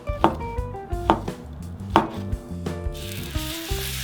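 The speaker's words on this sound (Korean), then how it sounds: "어묵은 반으로 접은 후 길고 얇게 써는 게 중요해요" A knife chops fish cake and green chili into long thin strips on a board, with several crisp, close cuts in an uneven rhythm and no talking.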